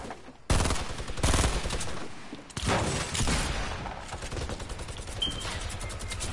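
Rapid sustained minigun fire in the Fortnite video game, a loud dense burst that starts abruptly, pauses briefly, then resumes and continues steadily to the end.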